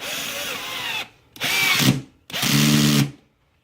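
A power drill drives screws during a pump install, whirring in three separate bursts with short pauses between, close and loud, the motor straining as each run ends.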